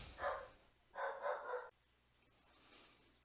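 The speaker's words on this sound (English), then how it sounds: "There goes the dog." A pet dog barks indoors in two short bursts, the second a longer run of barks, heard moderately from across a quiet room, followed by faint background noise.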